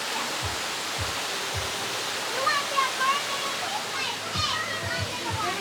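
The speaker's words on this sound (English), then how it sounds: "so we saw that waterfall there" Steady broadband rush of a waterfall at Blue Heaven Waterfalls in Jamaica, a continuous roar filling the scene while distant voices and a few low thumps sit faintly beneath it.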